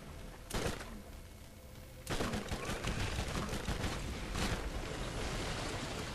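Borderlands gunfire: a short burst of shots, then from about two seconds a steady run of rapid automatic fire under a dense, noisy wash, moderately loud.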